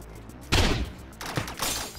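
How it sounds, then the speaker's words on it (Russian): A loud video game explosion bursts out close and harsh, followed by a second rumbling, crackling blast with scattered debris noise, alone without talk. "Вот это взрыв."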